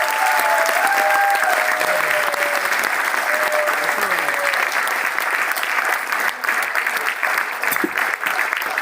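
Sustained, dense applause from a large meeting audience at the inauguration of a mobile application in Kadi, Gujarat, loud and continuous throughout with faint voices underneath.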